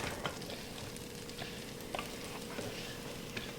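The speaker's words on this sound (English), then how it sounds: "I have about 2 tablespoons of salted butter in my frying pan. I'm going to add the onions" Onion slices sizzling in salted butter in a frying pan, a soft continuous crackle with a few brighter pops and scrapes, fairly quiet and close.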